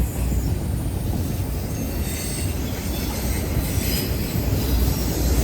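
Freight train with auto rack cars rolling past close by, a steady loud roar of wheels on rail with high squealing and rumble throughout, no voices.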